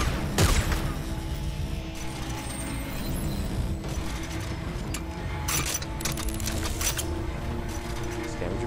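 Rapid automatic gunfire from a machine gun in the sci-fi shooter Dead Space 3 rattles on for several seconds in dense, steady bursts over busy mechanical game noise.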